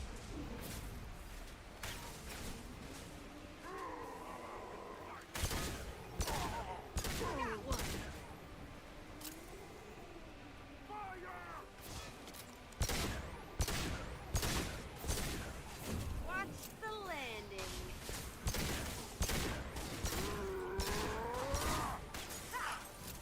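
Mass Effect 2 combat: repeated bursts of gunfire and sharp impacts ring out in clusters, mixed with whooshing effects and crashes, fairly loud and close throughout, with voices speaking in between.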